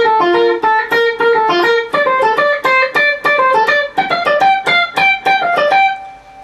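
Distorted electric guitar plays a fast, driving riff in G Dorian with a gritty, saturated tone, notes rising and harmonizing before ending on a sustained chord.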